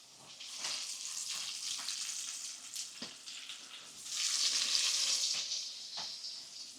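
Loud, steady sizzling of floured chicken frying in hot oil in a pot, swelling louder partway through, with a few soft clinks and stirring sounds.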